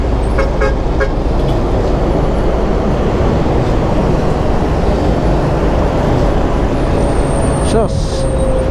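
Dense night road traffic on the route from Fairview to Imus, Cavite: a steady, loud rumble of car and bus engines with horn toots near the start and a passing whine late, voices faintly underneath.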